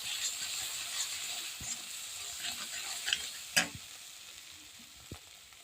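Turmeric and chili powder being stirred into a paneer gravy in a pan, a soft continuous sizzle with scattered spoon scrapes and clinks, one sharper knock near the middle, no talk.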